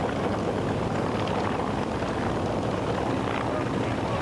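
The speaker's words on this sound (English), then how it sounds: "Throttles are coming forward. The RPMs are rising, manifold pressure's rising." Unlimited-class racing airplane engines at the Reno Air Races run with throttles coming forward, making a dense, loud, steady roar that holds without a break throughout.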